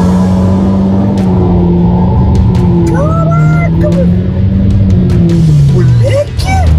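A remapped Honda Civic turbo with a CVT and a modified exhaust revs and accelerates, a loud close engine drone rising and falling in pitch with whooshing turbo sweeps, while people talk excitedly over it.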